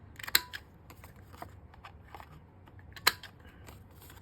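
Scissors snip the corners off a handmade Easter paper card, with two crisp distinct cuts separated by a few seconds and soft paper rustling in between, quiet and close.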